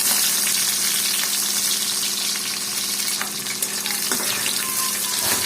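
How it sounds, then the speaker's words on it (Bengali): Onion sizzles in hot oil in a wok for a vegetarian soybean dish, a loud, continuous close crackle with a few stirring clinks and no talking. "এই যে একটা কড়াই নিলাম এর মধ্যে তেল দিয়ে দিয়েছি দেবো একটু পেঁয়াজ"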